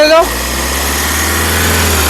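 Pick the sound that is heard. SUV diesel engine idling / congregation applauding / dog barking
SUV diesel engine idling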